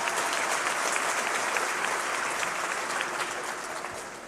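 A graduation audience at a high school ceremony applauds the salutatorian, a dense, steady wash of many hands clapping that holds throughout and tapers slightly at the end.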